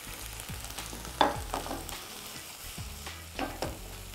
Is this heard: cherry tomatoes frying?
yes